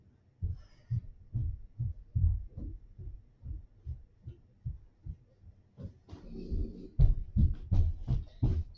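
Snoring from a puppy, heard as a steady series of low, rhythmic breaths roughly every half second, close and fairly quiet, turning louder and rougher near the end.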